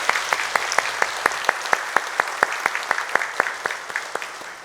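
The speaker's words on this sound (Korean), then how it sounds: "하나님께 영광의 박수 올려드리겠습니다." A church congregation at a Sunday worship service claps in unison, about twenty sharp, evenly spaced beats in a steady rhythm, moderately close, with no talking over it.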